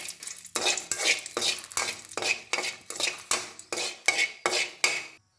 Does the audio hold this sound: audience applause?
no